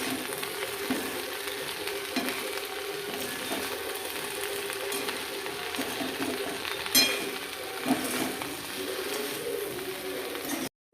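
Okra (bhindi) sautés in a pan with fenugreek sprinkled over it, giving a steady, close sizzle and crackle with occasional scrapes and stirring clicks, uninterrupted by voices.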